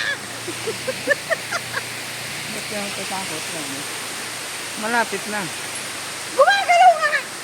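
A river rushes below a hanging bridge in the Nueva Vizcaya countryside, a steady broadband wash of water heard throughout beneath people talking, with footsteps and the voices louder near the end.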